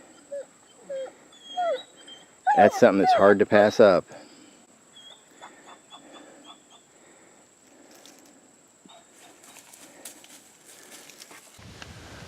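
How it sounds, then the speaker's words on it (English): Dogs whine and cry at an armadillo's hole, high thin whimpers scattered through the clip with a louder cluster of yelps, while someone talks nearby. "You can hear the dogs in the background whining and crying"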